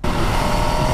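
A 2021 MV Agusta Dragster motorcycle engine runs steadily at close range, a dense continuous roar with no pauses or change in pitch across the second.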